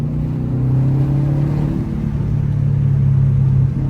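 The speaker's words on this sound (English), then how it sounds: "it is good every once in a while to redline your car" A Subaru WRX STI engine revs hard toward redline, a loud sustained droning rumble with a steady low tone that dips briefly and then climbs again, heard alone without talk.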